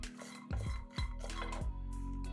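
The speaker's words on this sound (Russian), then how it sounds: "Жарим на среднем огне, постоянно перемешивая." Walnuts toasted over medium heat in a frying pan while being stirred constantly: a few clear scraping and clinking strokes of a utensil against the pan over a steady low hum, close and moderately loud, with no voices.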